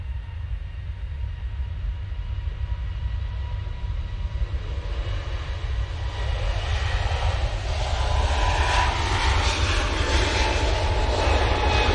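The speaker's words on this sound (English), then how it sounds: "Turkish time. Going back off to Istanbul using the A321 Neo" A Turkish Airlines Airbus A321neo departing Manchester for Istanbul, its deep engine roar building steadily louder over the span with a rising whine.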